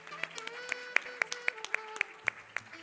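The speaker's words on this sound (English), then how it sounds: "A round of applause, Puneet." Sparse, steady hand claps for Puneet as he comes up on stage at an African coastal development event, sharp regular beats about four per second over a faint tonal hum in the room.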